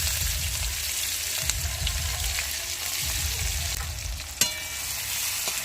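Onions fry in a pan over a traditional clay stove for Bengali fish curry, a dense, close crackling sizzle with stirring scrapes and one sharp utensil knock near the end.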